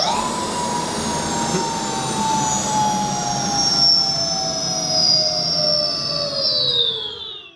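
An electric motor on a converted Ducati motorcycle spins up with a steady, loud whine whose tones glide slowly downward over several seconds and then cut off, heard close with no talking.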